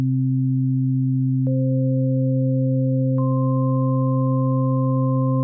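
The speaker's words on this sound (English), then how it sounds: "Now we add multiple sine waves playing at different pitches." Several pure sine tones at different pitches, a steady low tone joined by a second higher tone and then a third, each entering with a faint click and holding evenly at constant loudness.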